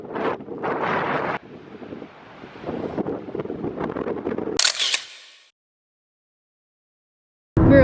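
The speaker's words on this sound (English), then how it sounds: "It's so windy." Strong wind buffets the microphone on a snowy winter beach in Iceland, a loud roaring rumble for about five seconds, then a brief sharp burst before the sound drops to near silence and a loud gust returns at the end.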